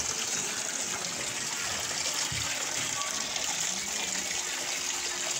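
Water gushes up from a spring at an old fort site in Satkania, Chattogram, a steady close rushing wash heard alone for the whole stretch.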